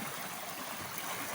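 A forest stream flows with a steady, even rush of water, soft and continuous, with no voices over it.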